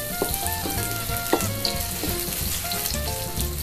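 Garlic, shallots and chili sauté in a hot pan with oil, a dense steady sizzle broken by small pops and the clink of a utensil stirring, close and with no voices.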